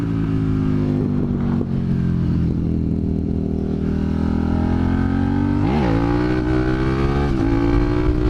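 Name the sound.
Suzuki SV650 motorcycle accelerating through the gears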